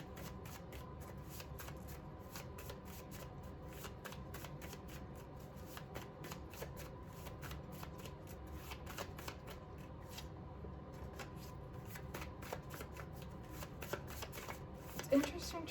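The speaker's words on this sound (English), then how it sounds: "It's interesting trying to shuffle this." Tarot cards are shuffled by hand continuously, a dense run of rapid papery riffles and slaps close up, steady throughout with a slightly louder bump near the end.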